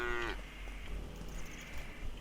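A cow in the survival crafting game Craftopia gives a short, low moo that falls in pitch right at the start, followed by a steady bed of game ambience.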